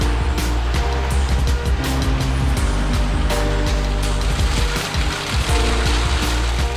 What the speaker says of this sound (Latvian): Ūdens troksnis tālāks vai tuvāks, bet visu laiku ir pavadošs